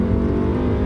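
A Honda four-cylinder car with a regular automatic transmission accelerates hard with its tires spinning, a loud, steady engine roar lasting just under a second with no talk.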